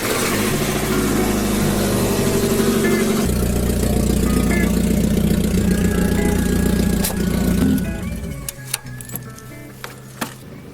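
A Mazda Miata engine runs at a steady, loud idle, then cuts off around the eighth second, leaving a few sharp clicks and knocks.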